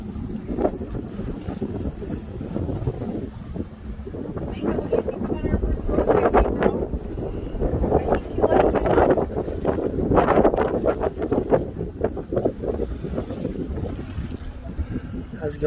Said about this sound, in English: The wind is high. But I guess that's what the sailboat's about.